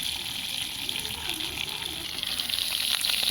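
Chilies sizzling in a pan while a dried fish curry is cooked, with a steady bright hiss that stays close and even throughout the short stretch, with no talking.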